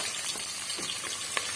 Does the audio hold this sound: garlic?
yes